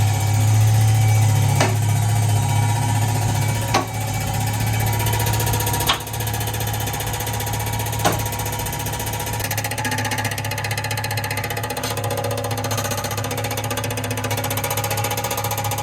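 A Lincoln car engine cranks and runs with a loud, steady mechanical drone, broken every couple of seconds by a sharp knock from something hitting inside.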